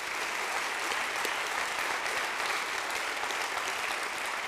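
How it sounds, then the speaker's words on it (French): A business awards ceremony audience claps for the nominees in sustained, even applause, a dense wash of many hands at moderate distance with no pauses or voices standing out. "Je vous propose de toutes et tous les applaudir pour commencer."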